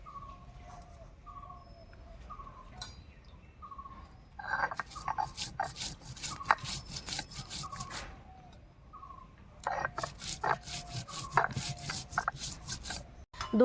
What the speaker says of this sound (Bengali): এবার জিরে ধনে বেটে নেব।